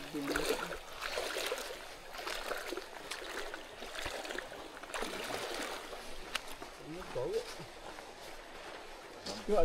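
A jungle river at a crossing on a Gunung Tahan trek flows steadily with a rushing, trickling wash, and people talk quietly nearby over the water.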